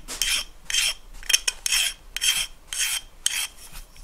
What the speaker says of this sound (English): I'm filing away from the bedding surface on this one.